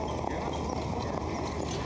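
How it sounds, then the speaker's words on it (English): Harness racing horse at a county fair track trotting past, its hooves making a steady rapid clip-clop under broad crowd and track noise, fairly close. "7-horse first time starter just passed us, Red Irish Rose."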